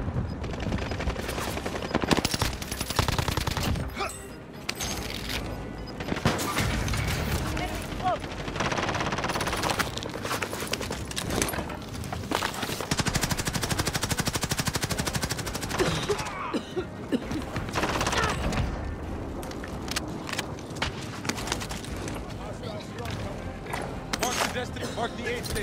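Call of Duty Warzone match on Rebirth Island with dense, continuous automatic gunfire and clattering bursts throughout, loud and busy, with players talking over the shooting.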